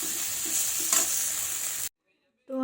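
Fish frying in oil in a pan, a dense close hiss with faint crackles for about two seconds, then sudden silence, and a voice begins at the very end.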